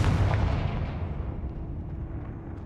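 A single heavy blast from the Confringo spell in Hogwarts Legacy hits hard at the start, then a deep rumbling boom slowly fades over the next couple of seconds.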